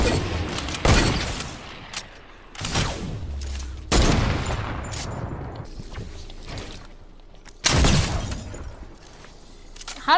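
Video game gun that fires cannonballs, heavy booming shots with crashing, shattering impacts, three or four loud blasts spaced several seconds apart, each trailing off into rumbling debris and mechanical clatter.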